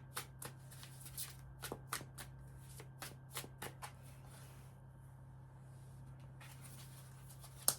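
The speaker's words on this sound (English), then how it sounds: "So now I'm shuffling the Threads of Karma." A 75-card Threads of Karma oracle deck being shuffled by hand, with sharp crisp card riffles and taps arriving in irregular bursts, then a quieter stretch before a few more, close and soft over a steady low hum.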